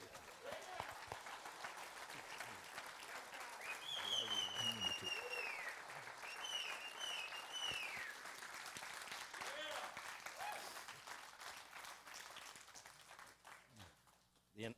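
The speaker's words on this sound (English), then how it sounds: "Let's applaud the Lord." A church congregation applauding during a service, a sustained burst of clapping that fills the room, with voices calling out over it and the clapping thinning out toward the end.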